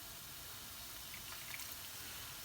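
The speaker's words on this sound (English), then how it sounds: "I'm just going to add a little touch of water to this" Hot water pours from a kettle into a pan of chicken tikka masala curry, a quiet continuous gushing trickle lasting a couple of seconds.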